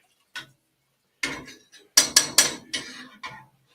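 Spoon stirring beef barley soup in a pot, a handful of sharp clinks and scrapes against the metal, with a quick cluster of knocks in the middle and brief pauses between.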